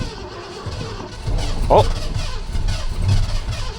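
An old Ford F250 that has sat unused for twelve years cranks with a low, uneven churning and nearly catches before dying, while a man makes a short exclamation over it.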